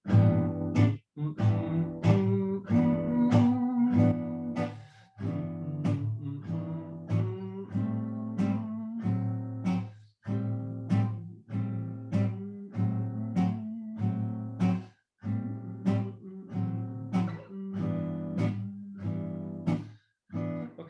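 An acoustic guitar strums swing-style chords using a substitution for thumb dooley in a steady, bouncy rhythm with brief pauses between phrases, close and unaccompanied.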